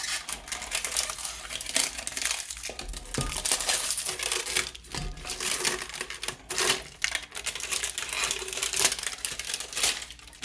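Sublimation paper is peeled off a 30oz tumbler, giving irregular crinkling, crackling and tearing sounds in close, busy bursts with short pauses, no voices.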